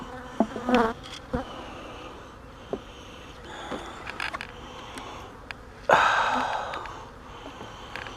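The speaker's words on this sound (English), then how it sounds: "there's only 3 or 4 bees on there" Honey bees buzzing up close at a mating nuc hive, the hum rising and falling, with occasional knocks and creaks of something being handled.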